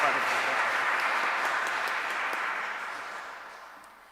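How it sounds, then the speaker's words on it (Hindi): A church congregation at Sunday Eucharist applauds Father Francis, a thick, even patter of many hands that holds steady and then gradually fades away. "ज़ोरदार तालियों के साथ"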